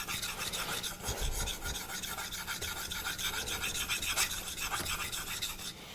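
A convex-ground knife blade scraped repeatedly across a Naniwa diamond whetstone, giving a continuous close rasping rub with steady back-and-forth strokes and no talking.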